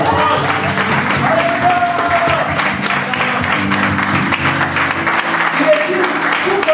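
A church congregation claps in a dense, continuous burst of applause with crowd noise and voices mixed in. The sound is loud and near, and the clapping fills the whole moment.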